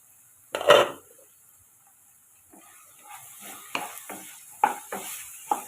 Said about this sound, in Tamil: அஞ்சு நிமிஷம் ஆயிடுச்சுங்க நம்ம இதை கிண்டி விட்டுக்கலாம்